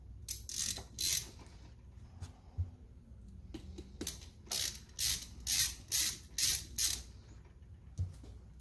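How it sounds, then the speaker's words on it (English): Screws on the valve cover of a Kayo K6-R 250 dual-cam engine being turned out, a series of short, close, bright creaking squeaks in uneven bursts, several in a quick rhythmic run near the end, with no talk. "Just removing the valve cover screws right now."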